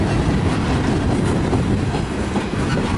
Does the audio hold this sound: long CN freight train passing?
yes